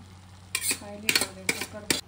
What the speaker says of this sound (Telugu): సో ఇట్లాగా రైస్ మొత్తం వేసేసుకొని మిక్స్ చేసుకోవాలి.